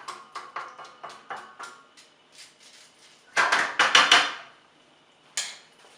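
Mushroom risotto rice with shallots, wine and oil being stirred in a pan: a run of light scraping, clinking strokes, then a louder cluster of quick scrapes and knocks, ending with one sharp clink.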